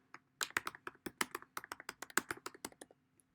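A search term tapped out on a computer keyboard, a close run of crisp, uneven keystrokes lasting a few seconds that stops with one final soft tap.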